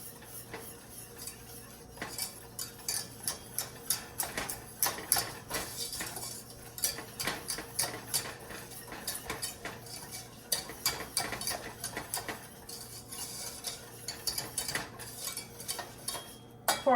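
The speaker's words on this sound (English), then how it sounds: "the next thing we're gonna do is blend these together well" Salt and allulose being blended in a bowl, a steady run of light metallic clinks and scrapes from a utensil against the bowl, close and fairly quiet with no talking.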